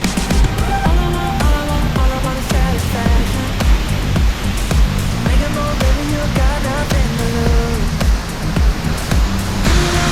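Seljalandsfoss waterfall in Iceland, fed by meltwater from Eyjafjallajökull, heard from behind the falling water as a loud, continuous, close roar that stays steady throughout.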